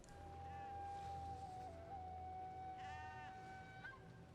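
Sheep enemies in the video game Mortal Shell 2 give a few faint, wavering bleats over a steady hum of game ambience and music, quiet and somewhat distant.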